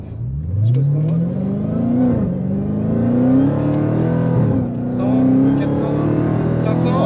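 A 720 hp Dodge Challenger accelerating hard, its engine note climbing steadily through the gears with a loud, rising roar heard from inside the car.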